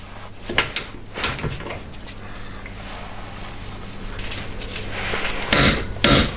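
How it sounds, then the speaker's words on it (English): A torque wrench tightens a coilover bolt to 100 Newton meters on a BMW E36 318ti suspension, giving a few sharp, close knocks and clicks spaced apart over a steady workshop background. "this one torques up to 100 Newton meters"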